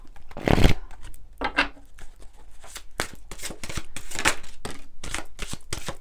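A deck of angel tarot cards being shuffled by hand, with repeated papery riffles and slaps in bursts, close and fairly loud, with no talk.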